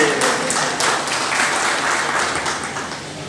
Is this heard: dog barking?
no